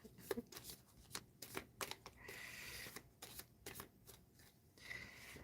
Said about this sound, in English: So let me shuffle again because I took a look at the back sides.